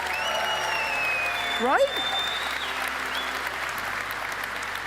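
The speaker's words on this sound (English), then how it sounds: "Let's clap it up for these guys." A conference audience applauds at an outdoor event, steady clapping filling the whole stretch, with a voice briefly speaking over it.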